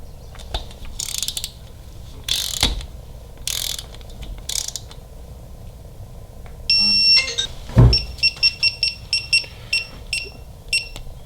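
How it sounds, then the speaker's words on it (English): A torque wrench ratchets on the crank bolt of a Harley-Davidson Milwaukee-Eight engine. Close, crisp clicking comes in short bursts, then a sharp click sounds as it reaches torque, followed by a quick run of rapid ratchet clicks. "Final torque on the crank bolt per the manual is 24 foot-pounds."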